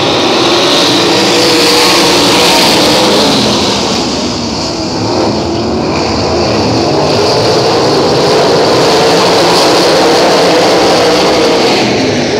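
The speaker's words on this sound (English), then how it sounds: "Heat race number two here, Jackson Motor Speedway." Race cars in a heat race at Jackson Motor Speedway, a loud continuous roar of several engines that swells and fades slightly as the pack circles, heard from trackside without talk.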